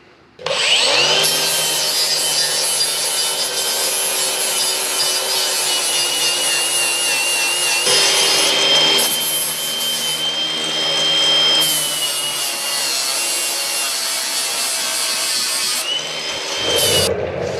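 A handheld power grinder works on metal during tractor repair, a loud, continuous high-pitched grinding whine lasting the whole stretch with brief dips as the tool is eased off and pressed back in.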